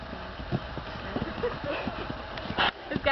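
A young PRE mare's hooves clip-clop at an uneven, jumpy pace, with soft irregular thuds over steady outdoor background noise and a brief louder scuffle near the end.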